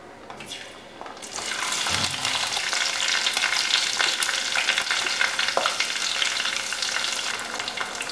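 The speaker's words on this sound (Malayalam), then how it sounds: "കറിവേപ്പില എല്ലാം കൂടി ഒന്ന് മൂപ്പിച്ചെടുക്കാം." Ginger, garlic, green chilli and curry leaves hit hot sesame oil with a loud, steady sizzle that jumps up after a quiet start, with occasional stirring clinks throughout, for a Kerala fish pickle.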